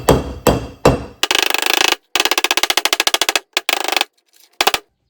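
A hammer taps a flywheel onto a Predator 670cc engine: three single strikes, then rapid rattling volleys of quick metallic blows, a pause, and a few last short bursts, loud and close.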